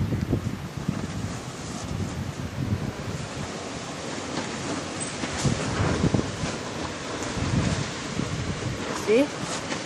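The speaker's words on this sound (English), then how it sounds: "sometimes there's big gusts of wind, and it's very bad" Strong storm winds gusting outside a window, a loud continuous roar with rumbling surges and buffeting on the microphone, swelling and easing over several seconds.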